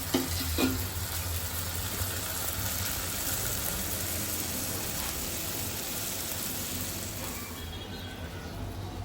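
Onion and garlic frying in a pan sizzle steadily as dried fish water is poured in, a close, continuous hiss with a brief louder burst near the start and no talking.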